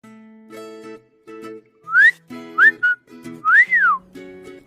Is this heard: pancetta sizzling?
no